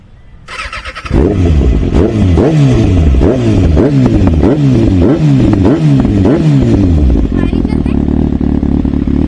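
A Kawasaki ZX-6R motorcycle engine starts and revs hard in repeated rising and falling bursts, loud and close, then settles to a steady idle; voices are heard faintly underneath.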